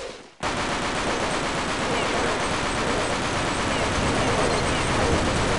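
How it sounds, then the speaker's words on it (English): Machine gun fire in zombie mode of Counter-Strike Online, a dense, continuous stream of rapid shots starting abruptly after a brief quiet moment and holding loud and steady to the end. "obviously this machine gun is worse than the rifle I used like before"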